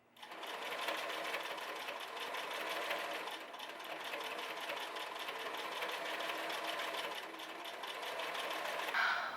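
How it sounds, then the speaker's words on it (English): A sewing machine stitching a hoodie with the presser foot up, running in a fast, even mechanical chatter for about nine seconds, close and continuous with no talking. "sewing with the presser foot up. Doesn't matter how many passes you do, still do weird stuff sometimes."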